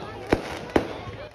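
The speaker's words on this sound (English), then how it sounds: "the fireworks had gone off 45 minutes early and in the middle of a lightning storm" New Year's Eve fireworks go off outdoors during a lightning storm, two sharp booming bursts about half a second apart, with a fainter thump after.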